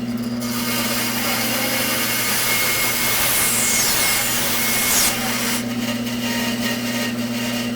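A bandsaw hums steadily while a wooden bandsaw box drawer is smoothed flat, with a rising rasping, rubbing sound of wood against the blade in the middle before the machine drones on alone.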